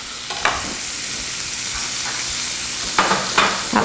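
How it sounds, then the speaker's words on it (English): Chopped onion and pepper sizzle steadily in a hot pan, with occasional louder crackles and pops from stirring. "Just hear a happy little sizzle on that."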